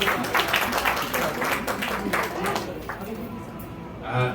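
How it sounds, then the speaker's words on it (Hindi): Audience at a state-level media awards ceremony in Nahan, Sirmaur, India, claps to welcome an honoree, a sustained burst of applause that fades toward the end as a voice returns. "तालियों के साथ स्वागत कीजिए"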